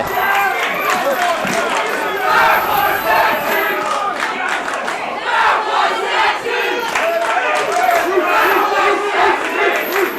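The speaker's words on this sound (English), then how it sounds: "That's right, this crowd chanting that was sexy for Ryan Slade." A wrestling crowd chants and shouts in rhythmic bursts inside an arena, loud and close, with a commentator's voice running beneath the din.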